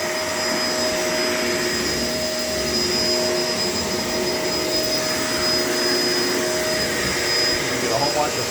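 A Shark LA702 vacuum cleaner runs indoors with a steady, loud, close whine and roar that holds unbroken throughout.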